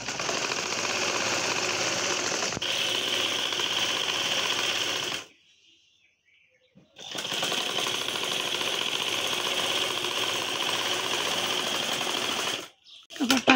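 A sewing machine stitches fabric pieces for a round baby frock in a fast, loud, continuous whirring chatter that stops briefly for a pause in the middle, then starts again and runs steadily before ending in a final burst.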